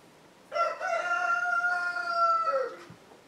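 A rooster crows once, a long, loud harmonic call rising then trailing off, heard up close against a quiet room background.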